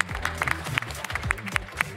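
An esports event crowd in Montpellier claps in a brief burst of scattered, uneven hand claps with some crowd noise and low rumble underneath.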